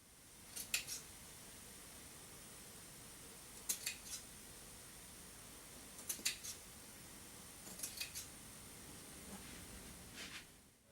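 Scissors cut off excess lace on a ballgown, sounding as a few quiet, close snips in small clusters spaced several seconds apart over a steady background hiss.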